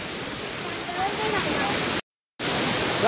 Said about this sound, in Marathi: हा बघा जस्ट धबधबा आहे इकडे